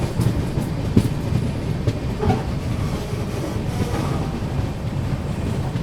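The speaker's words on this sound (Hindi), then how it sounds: "बाकी चलिए दोस्तों ट्रेन अपनी पहुंच रही है हापुड़ जंक्शन पे।" Kashi Vishwanath Express (15128) pulling into Hapur Junction, heard from aboard in a 2AC coach: continuous low rumble with rhythmic clickety-clack of wheels over rail joints and occasional sharper knocks, fairly loud and steady.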